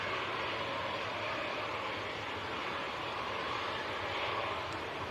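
KLM Embraer E190 airliner lined up for departure at Manchester Airport in crosswinds, its engines a steady, loud broadband roar that holds without break from start to end.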